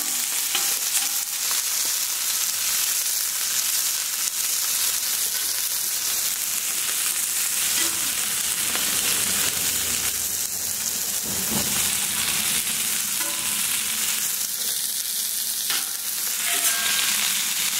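Vegetable or canola oil sizzling across a Camp Chef flat top griddle outdoors, a loud, steady crackling hiss that runs unbroken throughout, with faint small clicks here and there.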